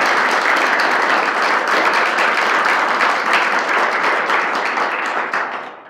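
Audience at a law lecture applauding to welcome Judge Sri Srinivasan, dense steady clapping from a full room that holds for several seconds before tapering off at the end.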